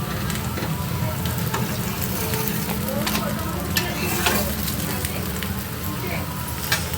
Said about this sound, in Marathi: दोन्हीकडनं खरपूस भाजून घ्यायचा बघा, छान लागतो खायला